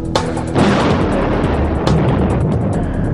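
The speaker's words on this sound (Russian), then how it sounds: "А еще опаснее выглядит танк, стреляющий в движении и при этом попадающий в цель." A tank cannon fires on the move with a heavy boom, then a second blast follows and leaves a long, loud rumbling roar that fills the whole stretch.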